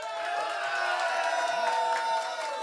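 A large political crowd at a Franklin County Democratic Party event cheers loudly and continuously, a dense roar of voices and whoops sustained throughout without pause.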